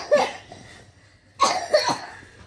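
A young girl coughs in two short bursts, a single cough followed after a pause by a double cough, close and fairly loud in a quiet room.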